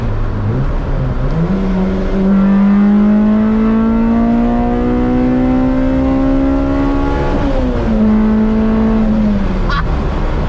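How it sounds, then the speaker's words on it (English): A Honda Civic Type R VTEC engine revs loudly, its pitch climbing steadily to a high screaming note, dipping briefly, then rising again before easing off, close and sustained. "it makes the best VTEC noises ever"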